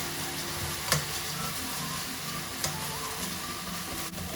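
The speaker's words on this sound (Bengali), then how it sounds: "রসুনটাও ভাজা ভাজা হয়ে গেছে" Garlic frying in a pan, with soy sauce and a pinch of salt, while cooking a quick Thai bok choy dish; a steady close sizzle runs throughout with a couple of sharp stirring clinks.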